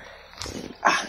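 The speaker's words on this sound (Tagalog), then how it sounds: "unti-unting lumalapit yung ingay ng aso" A dog barks in the open during a rest stop on a walk, a softer bark followed by a louder, nearer one, growing closer.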